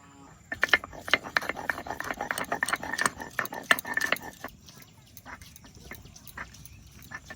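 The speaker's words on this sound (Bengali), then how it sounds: "তা আদা বেটে নিয়েছি, এবার রসুন বেটে নেব।" Garlic is ground into paste. Rapid, rhythmic knocking and grinding strokes come close up for several seconds, then thin out into slower, scattered taps.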